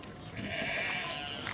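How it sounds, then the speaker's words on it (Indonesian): Sheep bleat in a sustained, wavering call over a dense background of other sound, loud and steady through most of the moment. "Domba-domba itu mencoba kabur."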